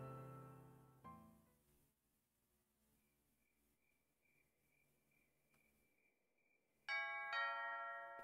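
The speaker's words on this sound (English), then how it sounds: "There's a doorbell." A soft chime sounds once in Death Mark 2, followed by a quiet sustained tone, then a brighter two-note doorbell ring near the end, with near silence between.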